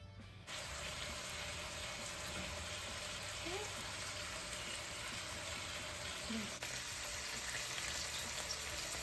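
Salted and peppered chicken pieces fry in a pan with a loud, continuous broad sizzle that holds steady throughout, close by and without speech.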